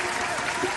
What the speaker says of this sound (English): we're gonna give her a special applause